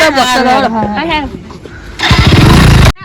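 A motorbike engine starts up and revs loudly close by, a rough low rumble after a stretch of voices talking in Gujarati.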